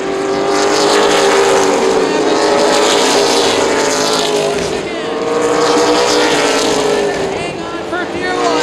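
ARCA/CRA Super Series race cars roar around Columbus Motor Speedway, a loud sustained engine drone that swells and fades as the pack passes, under continuous commentary.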